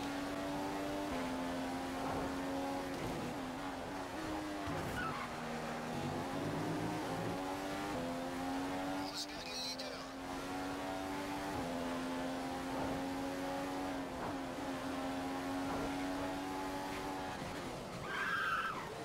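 Formula 1 race cars from the F1 2015 video game whine on a constant high engine note that rises and dips with shifts. The sound is loud and unbroken, with a brief skid near the end.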